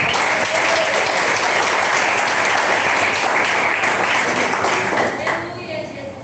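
A church congregation claps loudly and continuously in a dense, sustained burst of applause that fades toward the end as the clapping tapers off.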